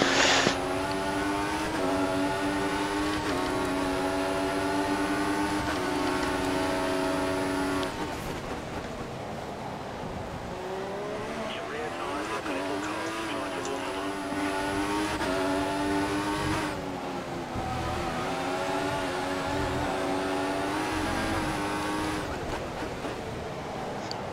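A Formula 1 car from the F1 2014 racing game at the Bahrain circuit screams at full throttle, its high engine whine rising and dropping through gear shifts, loud and continuous with no talking.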